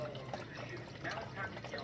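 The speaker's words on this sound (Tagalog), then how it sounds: "Yan, water pump niya." A goldfish aquarium's water pump and filter run with a steady, close trickle and bubbling of moving water, and a person talks over it.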